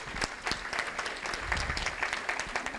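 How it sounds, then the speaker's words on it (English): Audience applause at a community scholarship banquet, a burst of dense clapping from many hands in a hall, steady and moderately loud for a few seconds with no talking over it. "So give them a round of applause."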